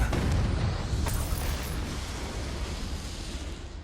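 An explosive spell blast in Hogwarts Legacy, a loud boom at the start that rolls into a long rumbling decay with scattered crackles, no talk over it.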